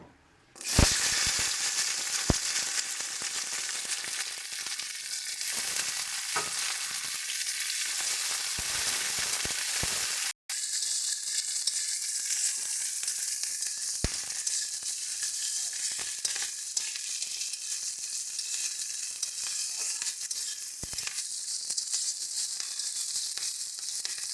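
Flat beans fry in oil in a pan, giving a loud, dense, continuous sizzle that holds steady for a long stretch, with one brief break near the middle.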